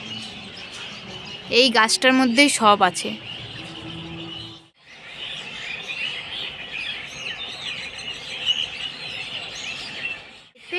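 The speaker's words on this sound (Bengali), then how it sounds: "কিচিরমিচির আওয়াজ পাচ্ছ দেখতে পাচ্ছ কত চেঁচাচ্ছে" Many birds chirp and twitter busily in a tree, a constant high chatter, while a person briefly speaks over them near the start.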